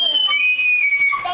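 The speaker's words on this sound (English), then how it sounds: "Let's have the loud whistle." A loud whistle is blown in one long, steady, shrill blast that holds through the whole moment, with a hint of voices near the end.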